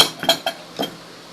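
A metal cooking pot clanks against other dishes while being washed by hand, a few short sharp knocks over about a second, then quiet.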